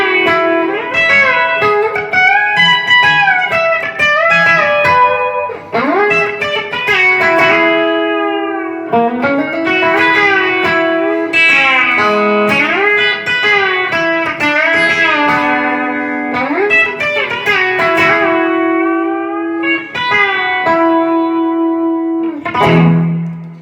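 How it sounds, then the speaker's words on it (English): B-bender electric guitar licks in an outlaw country style, in a pedal-steel-like opening with bent notes and sliding pitch, play loud and clear with effects and reverb. "what you heard there, kind of a pedal steel, traditional pedal steel opening straight into some bendering"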